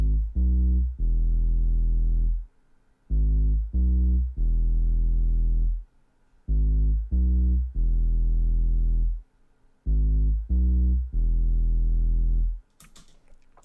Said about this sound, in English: So this is what the sub sounds like.